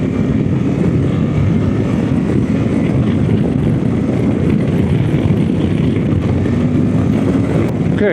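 A Suzuki V-Strom 800 motorcycle engine drones loud and steady under hard acceleration through the gears, with heavy continuous engine and wind roar throughout and no clear gaps.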